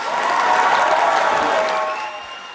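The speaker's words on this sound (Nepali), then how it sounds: "दर्शक महानुभावहरू उहाँको लागि एकचोटि जोरदार ताली दिउँ।" Warm audience applause with some cheering at a Nepali lok dohori folk song program, greeting an American woman studying the genre; loud, full clapping that holds steady and then fades away near the end.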